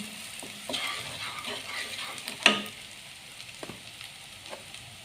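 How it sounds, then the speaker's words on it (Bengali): Onions frying in a pan, a continuous close sizzle and crackle with occasional stirring scrapes and one sharper clink of a utensil against the pan. "পেঁয়াজ আমি ভেজে নিচ্ছি।"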